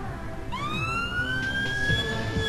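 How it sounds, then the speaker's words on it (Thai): A police car siren from the video game APB Reloaded starts up and holds a loud, rising wail that levels off into a steady tone, heard clearly over the game's engine rumble. "คลิกขวาเปิดไซเรน"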